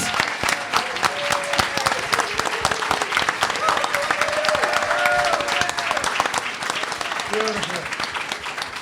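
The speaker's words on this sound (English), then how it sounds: "Let's give them a round of applause" A live audience applauds the panel at a historical society event on music in Cotati, a continuous crowd clapping at moderate loudness, with voices and some tonal sound carrying over it.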